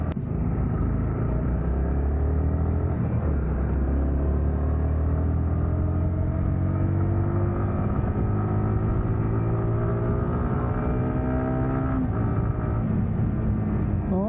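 A Yamaha R15 M 155cc motorcycle engine on a quick-shift ride, loud and close, revving up through rising pitch sweeps with brief dips at each shift and steady wind rush, with no talking.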